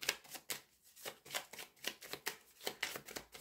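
Petit Lenormand cards being shuffled by hand for a reading, a quiet run of rapid papery riffles that repeat in a steady rhythm of about two bursts per second, close and alone with no talk.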